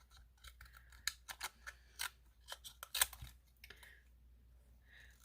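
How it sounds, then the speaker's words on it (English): Small scissors snip through embroidery thread in a quick series of close, crisp clicks, some spaced and some in short bursts, against a quiet background. "You can take these kind of scissors, work just fine for getting around"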